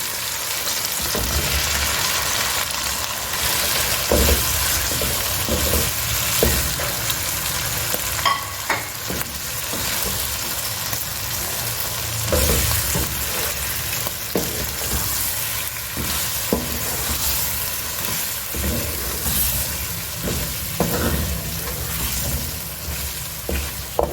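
Chicken pieces fry in a pan for restaurant-style Shinwari chicken, producing a loud, sustained sizzle with repeated clattering stirs and scrapes spread across a long stretch, close to the listener and without speech.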